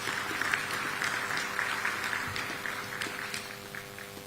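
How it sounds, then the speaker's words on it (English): Applause from an audience at a continental unveiling event in honor of Kenya's candidate, a steady, moderately loud wash of clapping with a few sharper claps standing out, continuing without speech. "Please, a round of applause."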